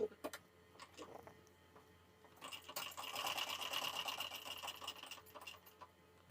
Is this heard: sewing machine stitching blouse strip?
yes